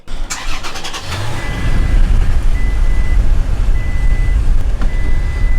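A 2017 Toyota Tacoma pickup truck idles after its engine starts, then a few evenly spaced reversing beeps sound over the steady engine hum once it is put in reverse.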